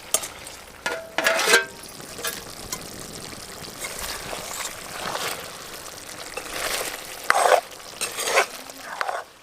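Chicken pieces frying in oil in a pan for chicken curry, a soft steady sizzle broken by several louder bursts of stirring and scraping, close and without talk.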